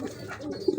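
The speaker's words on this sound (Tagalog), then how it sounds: "nagkasakit kasi yung kalapati natin na to, si Iking." A white-feathered racing pigeon, recovering from paramyxovirus, gives a soft, brief coo, close and low.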